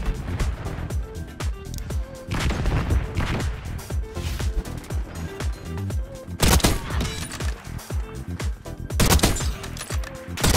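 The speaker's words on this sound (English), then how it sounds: "Enemy sniper shooting." Rapid bursts of sniper and automatic gunfire in the Black Ops 6 shooter game, dense and loud throughout with sharp repeated shots layered over game music and effects.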